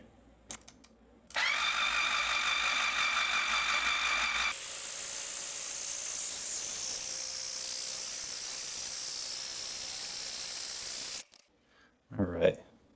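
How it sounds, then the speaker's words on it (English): The starter cranks over a rebuilt 2024 Yamaha GP HO watercraft engine to push oil up to the camshafts: a loud, steady whirring that runs unbroken for about ten seconds, then cuts out, followed by a brief voice. "I want to crank it over until I start seeing oil come out the camshafts there."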